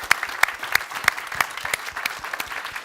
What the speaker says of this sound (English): give a warm round of applause to our three panelists here today